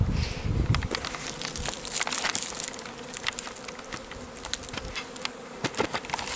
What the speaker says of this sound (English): All these bees are gonna go right there